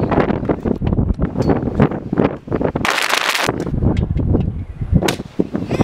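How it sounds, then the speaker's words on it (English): Strong wind gusts buffet the microphone outdoors at a bus stop, a loud continuous roar of broadband rumble with rushing bursts, filling the scene with no talk. "it's like hella windy right now"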